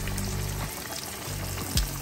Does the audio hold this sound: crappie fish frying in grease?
yes